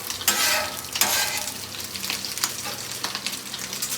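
Beef bacon and corn frying on a Blackstone griddle, a steady close sizzle broken by a few scraping stirs of a spatula across the hot flat top, with no talking.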